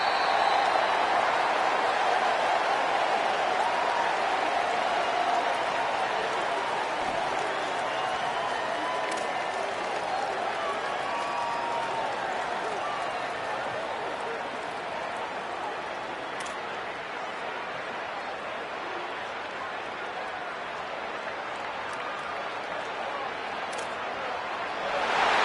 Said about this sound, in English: this home crowd ready to celebrate a very satisfying home victory